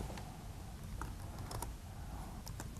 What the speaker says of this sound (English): What I can type in here is